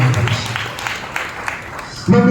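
A church congregation breaking into clapping, a brief burst of mixed applause that fades before a voice comes in at the very end.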